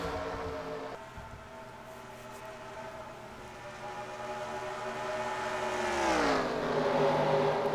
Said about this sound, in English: I'm hearing a couple cars slowing down